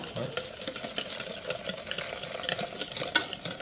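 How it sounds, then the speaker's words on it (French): Hot milk and cream infused with tonka bean get whisked into a bowl of sugar and egg yolks, making a busy, close, continuous scraping and swishing with quick rhythmic strokes. "On va le mélanger dans le mélange de sucre et de jaune d'œuf."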